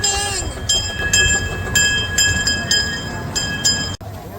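Small steam train ride at Tilden, California, with rolling rumble of wheels and repeated high metallic squeals and clinks at uneven intervals, close by, with faint voices in the background.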